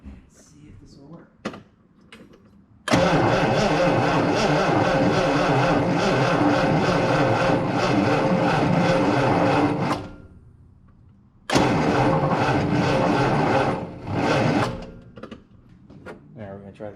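Triumph TR6 engine in a storage unit cranking over and then roaring to life with a battery charger connected, running loud and steady for about seven seconds, cutting out, then firing again briefly, with some talk at the start.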